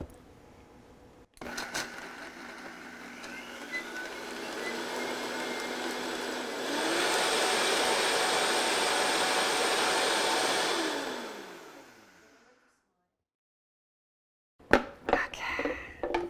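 A powerful blender mixes almond butter lime sauce ingredients with garlic, its steady motor whir building to a louder, fuller roar for several seconds before winding down and stopping.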